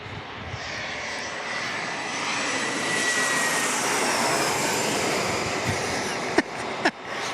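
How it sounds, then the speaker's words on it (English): A Boeing 737-900 jet airliner at San Diego International Airport gives off a loud, steady engine roar that swells slightly and holds throughout, with a couple of sharp knocks near the end. "that was a 737-900 that got the horn going"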